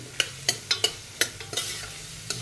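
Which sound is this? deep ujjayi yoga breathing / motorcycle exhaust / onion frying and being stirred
onion frying and being stirred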